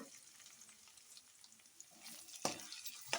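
Chopped tomato for chicken thokku sizzles softly in an oil-filled pan, a quiet steady frying hiss broken by a few sharp scraping stirs near the end.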